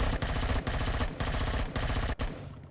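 Rapid bursts of automatic gunfire from a regular gun in the video game Empyrion, several loud sustained volleys separated by brief pauses, with no speech.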